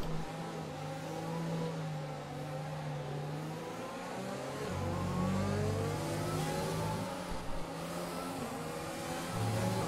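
Formula 1 car engine in the F1 2020 racing game, rejoining the track from the pit exit on cold white tyres, a sustained high revving whine rising through gears with a steady, loud drone and no talk.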